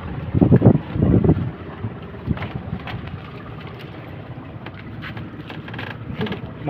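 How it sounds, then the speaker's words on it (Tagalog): Rumbling gusts of wind buffeting the microphone on a banca boat crossing toward Barangay Malaguit, strongest in a few heavy bursts at first, then a lower steady blustery roar. "Medyo mahangin siya."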